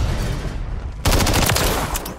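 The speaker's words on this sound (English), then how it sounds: "Taking fire over here!" Rapid automatic gunfire in a Call of Duty battle erupts abruptly and continues loud and dense as a sustained burst, with faint background noise before it starts.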